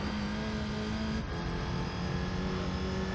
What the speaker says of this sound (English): I love the sound of the rally cars, though.